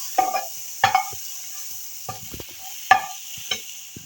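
Ingredients being stirred and mixed with fresh lemon juice for aloo matar chaat, a few scraping, clattering spoon strokes in short bursts with quiet gaps, no voices.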